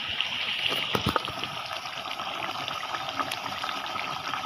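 Meat curry simmering in a pot on the stove, a soft steady bubbling with a few brief clinks and knocks near the start, quiet and close, no voices.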